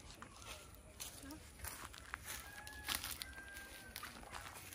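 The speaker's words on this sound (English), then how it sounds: "So this is all a chicken farm, as you could see." Chickens on a farm in Sylhet, Bangladesh, cluck and give short calls, with a faint crow, footsteps and people's voices mixed in at moderate distance.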